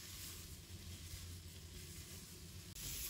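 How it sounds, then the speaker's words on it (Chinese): Steady, loud sizzling hiss of shrimp, cucumber and carrot being stir-fried in a wok with scallion whites in oil, continuous throughout with no talking. "然后给它们翻炒几下"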